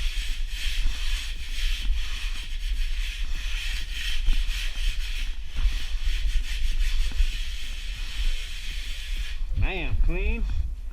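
A drywall rasp scrapes steadily along the rough edge of a drywall piece, a continuous close rubbing, grating texture that runs throughout, with a brief whistle-like squeak near the end.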